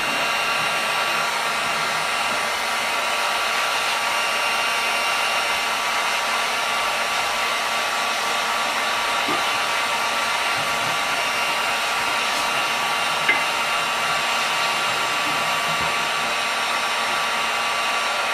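A heat tool blows steadily to melt embossing powder into embossing ink on a mixed media painting, a constant loud whooshing hum with no pauses, close to the listener.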